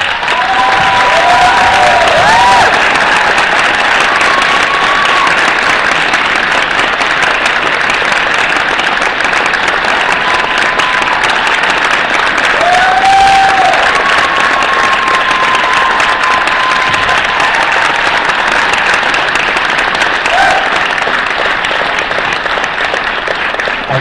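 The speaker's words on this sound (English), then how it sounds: "And I want to hear a big round of applause for that." A big round of applause from an audience at a film screening Q&A at San Diego Comic-Con, loud sustained clapping from a large crowd with scattered whoops and cheers, steady for the whole stretch.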